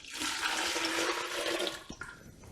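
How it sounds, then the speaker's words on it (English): Lactose solution, boiled and cooled, pours steadily into a jug for a Dark Matter milk stout, a continuous close rushing splash that tapers off near the end. "now I'm going to pour this into the jug"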